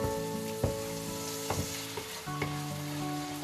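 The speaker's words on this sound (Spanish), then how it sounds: "Hay que refreírlo todo muy bien" Mussels and prawns fry in a pan, a continuous close sizzle broken by a few stirring scrapes and clinks of a utensil, with no voices.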